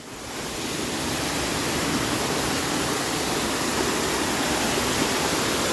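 A waterfall roars in a steady, loud broadband rush that swells in within the first half second and then holds constant, with no voices over it.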